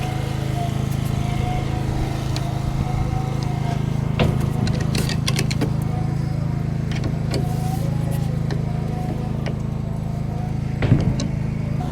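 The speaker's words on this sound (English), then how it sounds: "I can turn the auger off now." A plow truck's salt spreader auger runs with a steady low mechanical drone and engine rumble, close and continuous, with a few clanks and knocks over it.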